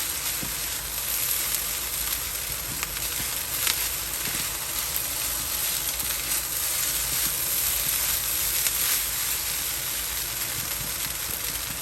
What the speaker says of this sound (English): I'm going to go back in with our egg and mix this in well